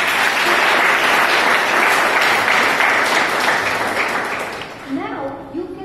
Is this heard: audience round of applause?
yes